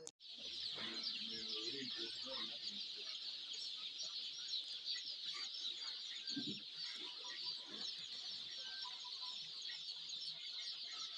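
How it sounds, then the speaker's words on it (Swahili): Commercial laying hens clucking steadily in a poultry house, a dense chorus of many birds close by with occasional louder individual calls throughout. "Hizi ni kuku za mayai."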